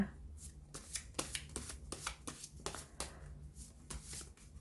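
A deck of tarot cards being shuffled in repeated riffling bursts, close and fairly quiet, with no talking.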